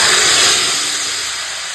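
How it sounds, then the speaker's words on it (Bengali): Whole cumin seeds, dried red chillies and a bay leaf hit hot oil in a pan and sizzle loudly with a strong, close hiss that eases slightly as it settles. "তেল গরম হয়ে গেছে এখন দিয়ে দিচ্ছি গোটা জিরে শুকনো লঙ্কা আর দিয়ে দিচ্ছি তেজপাতা"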